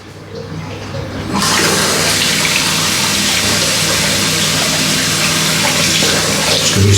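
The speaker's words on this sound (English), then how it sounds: "cold rinse." Cold tap water runs steadily while a razor is rinsed, a loud, even rushing stream that starts after a brief quieter moment and carries on without a break.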